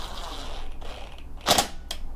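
A torque wrench on the wheel of a Honda lawn mower gives a sharp mechanical click, followed by a second fainter click, close up over a low background hum.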